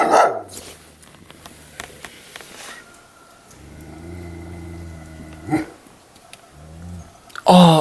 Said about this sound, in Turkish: Köpek sesi.